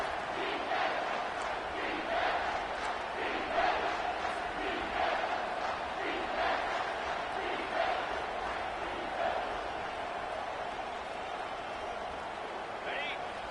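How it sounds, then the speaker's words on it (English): A college football stadium crowd roars steadily through a third-down defensive stand, a dense wall of cheering and yelling that swells in bursts, with an announcer's voice faintly mixed beneath. "Decibels rising as the crowd gets behind this defense on third down."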